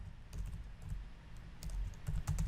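Quiet, close computer keyboard typing as code is written for a Selenium test, with irregular bursts of rapid key clicks separated by short pauses and no talking.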